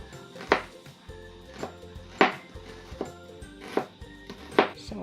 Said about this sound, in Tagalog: Slice ko muna yung sibuyas.